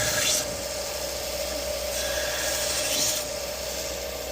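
A belt grinder cutting bevels on an old pocket knife blade, a steady high whine from the running belt with rasping grinding passes swelling in and out, close and continuous.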